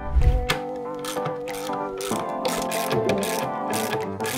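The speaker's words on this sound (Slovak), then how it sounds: "a teraz dotiahnem závitové skrutky a spojím naše spodné trámy spolu pomocou 120 mm skrutiek" Threaded bolts being tightened to join the wooden bottom beams of a hammock frame, a close, loud, rhythmic mechanical ratcheting with repeated clicking strokes and a thump at the start.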